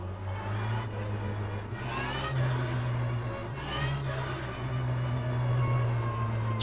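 Race car in the rFactor racing sim, a sustained engine drone with a high whining gear tone layered on top, swelling slightly as the revs rise and fall, steady and unbroken with no talk.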